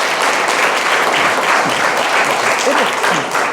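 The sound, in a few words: students clapping, applause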